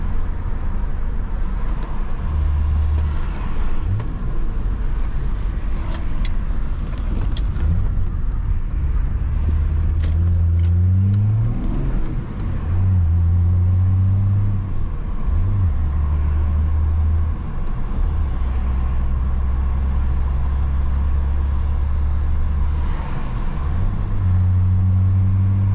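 A remapped BMW E34 525 TDS Touring diesel estate driving through a city, its engine drone rising and falling through repeated gear changes over steady road and tyre noise heard from inside the car, with no talking.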